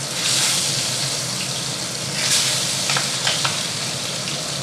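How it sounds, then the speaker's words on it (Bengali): Koi fish frying in hot mustard oil in a frying pan, a loud continuous close sizzle with a few sharper spitting crackles partway through, no voices. "এবার আমি কই মাছ তেলে দিয়ে দিচ্ছি"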